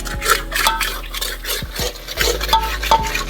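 Steady scraping and stirring of thick halwa in a pot over a traditional Himachali wood stove, with repeated ladle strokes against the pot and faint sizzling in the ghee. Close and fairly loud, with no talk.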